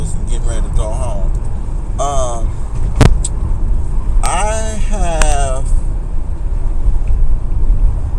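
Cabin noise inside a moving car, with a steady low road and engine rumble running the whole time beneath a man's continuous, close speech.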